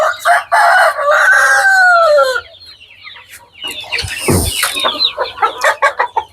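Hill and local chickens on a farm, a loud close rooster crow followed by a burst of busy clucking and squawks from several birds.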